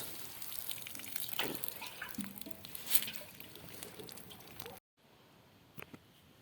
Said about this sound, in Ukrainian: поливаю теплою водичкою з лієчки поливаю